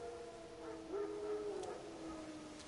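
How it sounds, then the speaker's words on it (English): Faint, distant howling from several wild dogs in The Witcher 3: Wild Hunt, overlapping wavering tones rising and falling over a low steady background. "Wild dogs. Yes. More dangerous than wolves."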